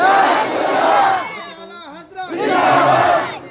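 A crowd at a religious gathering raises a loud, massed chant of the Nara-e-Takbir slogan in two surging bursts, with a short lull between them where a few scattered voices carry on.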